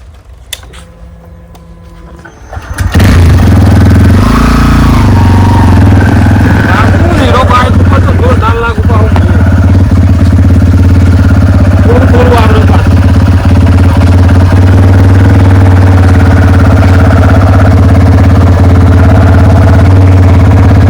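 A motorcycle engine starts up after a quiet moment, then runs loud and close with a steady droning hum, while voices speak faintly over it.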